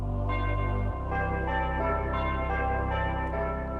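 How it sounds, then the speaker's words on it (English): A keyboard's church bells preset rings out in layered, sustained synthesized tones with a low droning strike at the start, full and resonant throughout. "Number 5, my church bells."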